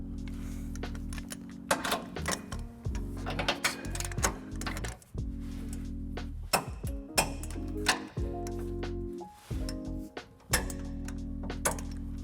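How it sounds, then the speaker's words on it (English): A ratchet with a 19mm socket on a 5-inch extension tightens the trailer hitch bolts on a 2018 Nissan Titan, giving bursts of quick clicking with short pauses over a steady low hum. "We're going to be using a 19mm socket for all those bolts, and it helps to use a 5-inch extension."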